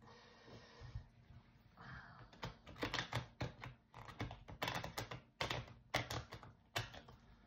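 Tarot cards shuffled close to the microphone, a quiet run of rapid crisp riffles and taps with soft breathing underneath.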